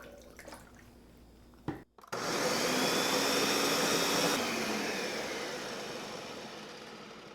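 A blender purees roasted tomato basil soup made with vegetable broth, one batch at a time. After a brief quiet moment, a loud, steady motor roar starts and runs on, easing slightly toward the end.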